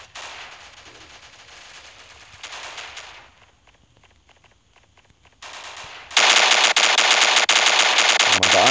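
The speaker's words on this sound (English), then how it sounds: "I'm shooting at him and this freaking range is so terrible." Gunfire in the mobile shooter game Standoff: rapid automatic bursts broken by short pauses, then a loud sustained stream of fire near the end, all close and dominant with no talk.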